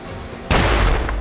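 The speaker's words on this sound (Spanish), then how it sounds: "La primera explosión ha destruido la botella." A sudden loud blast bursts in after a quiet stretch as a hydrogen-filled bottle explodes in an open outdoor area, a sharp broadband boom that lingers as a rumbling roar through the rest of the clip.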